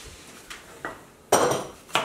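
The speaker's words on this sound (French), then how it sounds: "moi je fais la vaisselle" Dishes, pots and cutlery are washed by hand in a home kitchen, giving a few sharp separate clinks and clatters, one louder metallic clang among them, close by with no talking.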